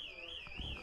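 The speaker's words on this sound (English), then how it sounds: "Should we mute our mics with the alarm going off?" A fire door alarm sounds faintly in the background as a steady, warbling electronic tone that rises and falls smoothly, with low murmurs of a poker room around it.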